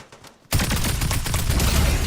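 After a moment of near quiet, sudden heavy gunfire erupts in a shooter game and continues as a loud, sustained rattling barrage, with no one speaking.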